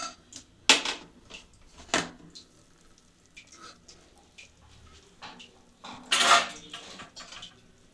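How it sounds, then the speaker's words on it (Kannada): A metal pressure cooker lid is handled and opened while goat head sambar cooks: a few sharp metallic clanks and clatters with quieter rattling between them, close to the listener. "ಇವಾಗ ಕುಕ್ಕರ್ ಮುಚ್ಚಳ ತೆಗಿತಾಯಿದ್ದೀನಿ."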